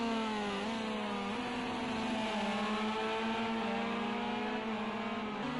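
Race car engines drone and rev continuously in a racing video game circuit event, a steady high whine with small gear-shift steps in pitch, several cars blending together with no talk.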